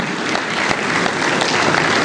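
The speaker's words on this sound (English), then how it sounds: "A round of applause. Please keep clapping till Ambassador gets here" Steady audience applause at a professorial chair installation ceremony, a dense, even wash of clapping from many hands with no break.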